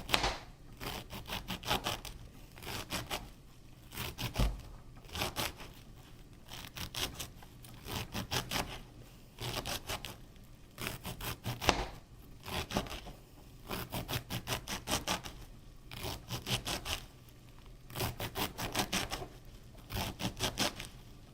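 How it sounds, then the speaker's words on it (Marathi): A kitchen knife slices radish leaves finely on a board for mula bhaji, giving repeated quick, close rhythmic chopping taps in bursts, with no talking. "अगदी जवळजवळ असा कापायचा आहे."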